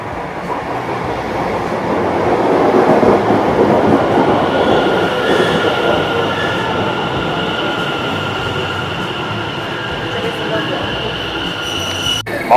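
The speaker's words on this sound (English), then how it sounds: "Here it is, our train" Train to Colchester station pulling in, a loud, close rolling rumble of wheels on rails with high squealing tones and a faint hiss as it slows, steady throughout with a brief clunk at the end.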